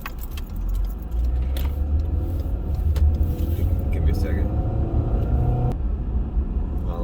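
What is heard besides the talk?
car driving past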